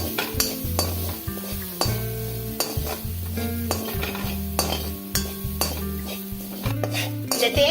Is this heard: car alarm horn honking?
no